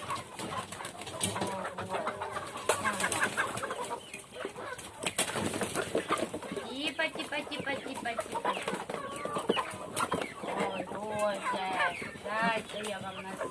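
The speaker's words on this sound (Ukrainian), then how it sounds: "Пішли, пішли, мої кури, мої дівчата" Hens cluck repeatedly in a busy, close-up chorus, with scattered chicken calls and a person speaking now and then over them.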